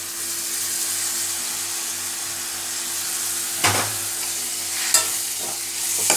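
Tomatoes sauté in oil with asafoetida in a pan, a steady close sizzle with a low hum underneath and a few louder scraping stirs toward the end.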